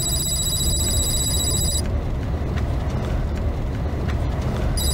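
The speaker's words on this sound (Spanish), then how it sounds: "Ya está timbrando." A telephone rings with a bright electronic trill that plays, stops for a few seconds under a steady background hum, then starts again at the end, with no speech over it.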